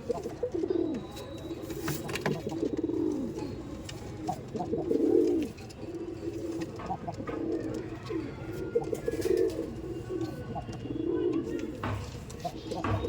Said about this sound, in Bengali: পায়রার কন্ডিশন দেখুন পায়রাটা দেখুন শুধু পায়রা দেখুন